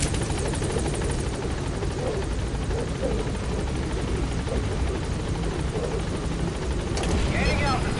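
In Metal Gear Solid V, a helicopter lifts off with a close, steady thudding rotor drone that runs the whole time. Voices talk over it, and a brief higher sound comes near the end.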